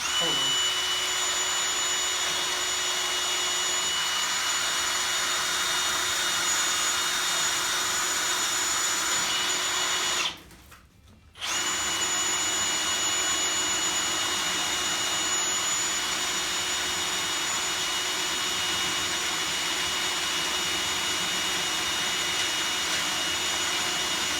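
A drill grinds steadily into a piece of railroad iron with a loud, continuous high-pitched whine that stops briefly once and then resumes.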